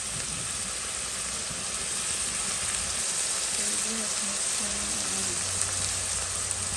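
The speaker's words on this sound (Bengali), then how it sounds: "আর কাঁচামরিচ এটা ভেজে নেবো আর এর সাথে হচ্ছে গুঁড়া মশলাগুলো দিয়ে দেবো" Green chilies frying in oil with ground spices, a steady, bright sizzle and hiss that runs without a break while a voice talks faintly underneath.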